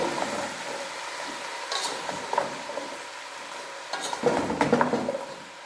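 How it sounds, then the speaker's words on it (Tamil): Beans, drumstick and brinjal for aviyal being stirred in a pot, soft scraping and clinking of a spoon against metal over a low sizzle, quiet at first and busier toward the end, with no talking. "இதை நல்லா கலந்து விட்டுக்கோங்க."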